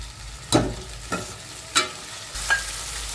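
Finely chopped green chillies dropped into hot oil for a dal tempering, giving a steady sizzle broken by four sharp spitting crackles.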